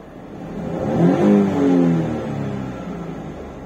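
A car engine runs close by at around 900 RPM with the air conditioning switched on, a steady mid-pitched hum that swells briefly before settling back.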